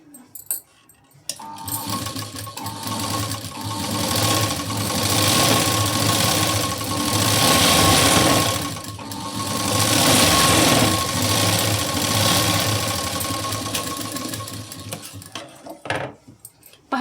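A sewing machine runs steadily while stitching a work blouse sleeve, a continuous close mechanical whir that swells and eases over most of the stretch, with brief handling noises at the start and end.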